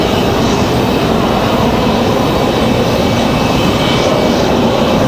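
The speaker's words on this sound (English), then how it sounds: "the Delta masked Neo, Delta 2496, coming in from Salt Lake City" Delta Airbus A321neo jet on landing approach, arriving from Salt Lake City, a loud, steady, broadband engine and airflow roar that stays constant and close throughout.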